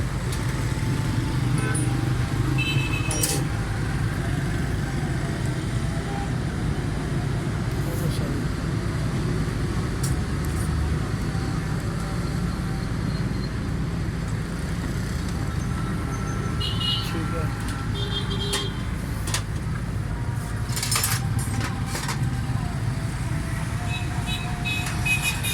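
A Suzuki Cultus EFI car engine idles with a loud, faulty tappet noise, a steady mechanical running sound heard close with someone talking over it throughout.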